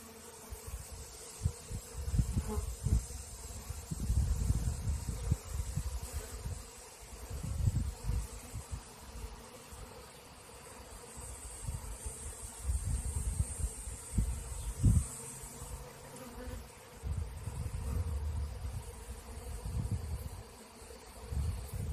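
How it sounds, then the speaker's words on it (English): Insects buzz steadily in the open air, a faint continuous drone over low rumbling wind gusts that rise and fall throughout. "all the bees that are flying around"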